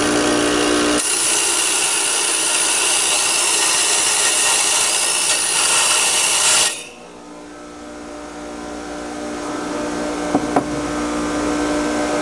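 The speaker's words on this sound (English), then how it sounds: "First thing is to dress your wheel. I don't have anything special. I just use the Star Wheels. Noisy and messy" Star wheel dresser dressing a grinding wheel on a bench grinder, producing a loud, harsh continuous screech and grinding roar for several seconds, then stopping abruptly as the wheel keeps spinning with a lower whir.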